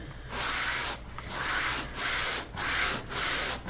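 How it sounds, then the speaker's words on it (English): Wet sanding across a painted wooden clock face to distress the finish: five rhythmic back-and-forth rubbing strokes, close and fairly loud, with short pauses between them and no talking. "I'm gonna do a little bit of like wet sand"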